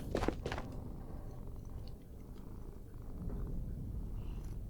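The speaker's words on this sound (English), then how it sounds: "I hear the cat." A cat purrs steadily and softly close by, a low rumbling hum with a few faint rustles and light movements around it.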